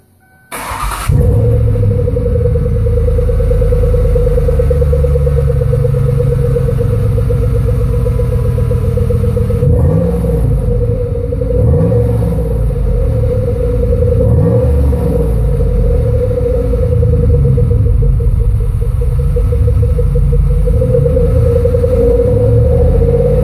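A Lincoln Continental with Flowmaster Super 40 mufflers and a cat delete starts up and idles with a loud, steady exhaust drone, broken by several deeper revs as the throttle is blipped.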